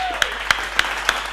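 Four sharp, evenly spaced claps ring out at a Sunday Tamil church service, crisp and fairly close over a quiet room, with a faint tone fading at the start.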